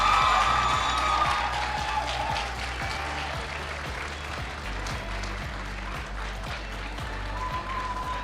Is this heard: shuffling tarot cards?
no